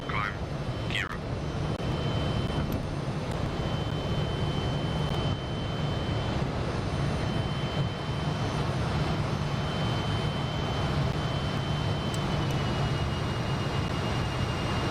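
Fokker F28 jet climbing out after takeoff in Microsoft Flight Simulator 2024, a steady, loud, full engine roar that holds for the whole stretch, with a brief higher whine near the start.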